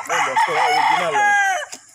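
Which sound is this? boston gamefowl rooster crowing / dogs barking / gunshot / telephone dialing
boston gamefowl rooster crowing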